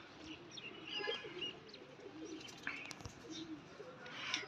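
Rooftop pigeons coo in soft, repeated throaty calls at close range, mixed with faint chirps and light background noise, no one speaking.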